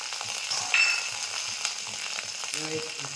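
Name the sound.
frying and stirring spices (cumin, ginger) in a pan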